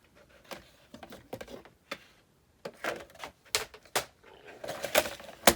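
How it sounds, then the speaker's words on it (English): A paper trimmer cuts through paper, giving a series of sharp, close clicks and slicing strokes in irregular bursts separated by short pauses. "I think I'm gonna use my trimmer this time for this."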